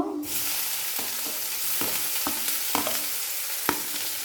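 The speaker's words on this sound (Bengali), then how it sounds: "তেলের মধ্যে পেঁয়াজ চাড়া করে নেব পেঁয়াজ বেশি ভাজবো না" Chopped onion and green chilli fry in about two spoons of hot oil, a dense close sizzle that swells as they hit the pan, broken by regular spatula taps and scrapes.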